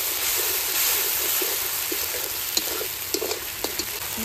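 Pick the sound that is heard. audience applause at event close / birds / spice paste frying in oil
spice paste frying in oil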